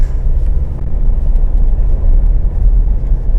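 A Mitsubishi ladder-frame SUV accelerates on a test drive, heard from inside as a loud, steady low rumble of engine and road noise with no talk.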